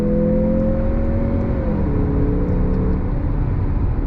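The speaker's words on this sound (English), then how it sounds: "I want to go on throttle again here from a roll. On throttle, here we go." A 2023 Mazda CX-50 Meridian Edition on off-road tires accelerates from a roll, its engine note loud and steady from inside the cabin, with tones that hold and then drop as it shifts down.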